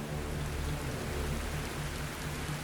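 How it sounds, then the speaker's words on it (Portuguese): Steady, dense rain falls on an alien exoplanet in an animated sci-fi setting, a continuous close hiss that holds constant throughout with no voices. "Quero sair dessa chuva."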